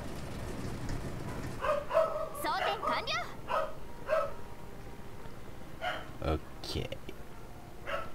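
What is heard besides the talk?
dog barking in the background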